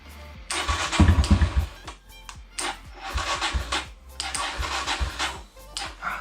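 A Kawasaki KLX140L dirt bike engine cranks over and over, sputtering and catching briefly in uneven bursts as it struggles to start, loud and close with no voices.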